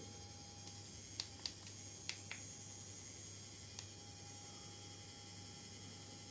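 A handheld 3D printer pen's small motor reverses to pull plastic filament back out, heard as faint, sparse mechanical clicks and ticks over a low, steady background hum, with no talking.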